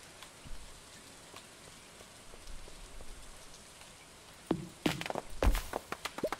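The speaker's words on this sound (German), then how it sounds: "Langsam regnet es viel." Steady soft rain patters in the Stardew Valley farming game, a faint continuous hiss, with a few sharper knocks and taps near the end.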